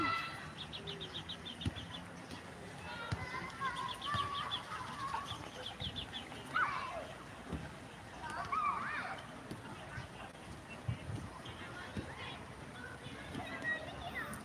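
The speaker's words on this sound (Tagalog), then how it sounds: "may free ASMR tayo, mga ibon." Faint birds chirping sporadically against a steady wash of outdoor background noise.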